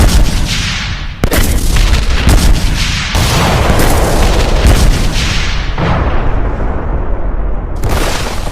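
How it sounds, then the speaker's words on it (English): Bombs go off in an anime battle, a run of loud, heavy booming blasts that crowd one another across the whole stretch with almost no quiet between them. "Bombs, look out!"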